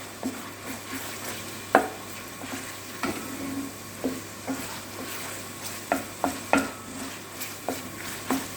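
Tomato and pepper paste being stirred and fried in a pan for moussaka, gentle sizzling under repeated scraping and clinking of a utensil against the pan at an uneven rhythm.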